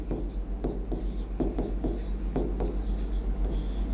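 Marker or chalk writing on a board during a chemistry lesson on aldehydes and ketones, a series of short scratchy strokes in an uneven rhythm, close and moderately quiet over a low steady hum.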